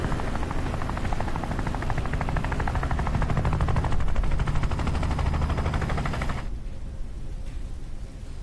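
Helicopter in the video game Phantom Doctrine, a loud continuous rotor chop with rapid rhythmic pulsing that holds steady, then drops sharply to a quieter rumble near the end.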